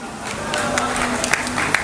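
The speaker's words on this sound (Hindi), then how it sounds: "दोस्तों आप लोग तालियां वालियां बजाने में थोड़ा कमज़ोर हैं, तालियां वालियां बजाते रहिए।" Audience applause at a stage comedy show, a steady wash of clapping from the crowd lasting the whole moment with a few sharper individual claps standing out near the end.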